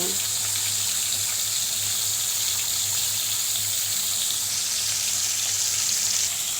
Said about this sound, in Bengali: প্রথমে মাছটা ভেজে নিচ্ছি